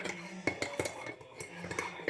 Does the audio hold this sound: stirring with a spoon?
yes